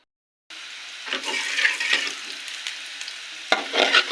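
Bogura hagrai potatoes fry in a pan, a steady crackling sizzle that starts abruptly after a brief silence, with stirring scrapes and a louder burst of spitting near the end.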